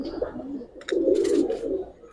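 Giribaz pigeons coo close by in low, throaty rolling murmurs, with a short chirp and some rustling between the calls.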